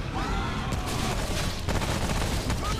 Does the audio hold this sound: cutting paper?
no